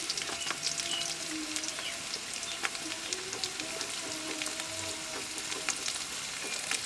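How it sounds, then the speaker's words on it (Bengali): Ground coriander, turmeric and salt being stirred into hot oil with a spatula for a boal fish dish, a continuous soft sizzle with sporadic light scrapes and clicks, close but moderate in level, no talking. "এখন আমি সুন্নি দিয়ে নেড়ে চেড়ে গরম তেলের সঙ্গে সম্পূর্ণ মশলার উপকরণগুলো গরম তেলের সঙ্গে মিক্সড করে নিচ্ছি।"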